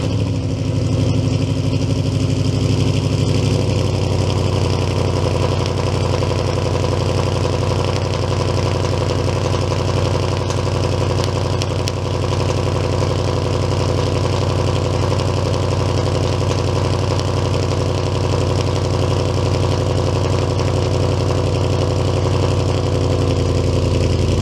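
Car engine cold-started and left idling, a loud steady low rumble that holds evenly from near the vehicle for the whole stretch, no voices present.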